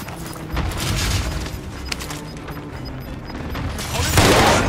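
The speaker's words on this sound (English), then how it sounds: "Enemy precision airstrike." Enemy precision airstrike explosions in Call of Duty: Modern Warfare Warzone on Caldera, a continuous rumble of distant booms and blasts that swells louder near the end.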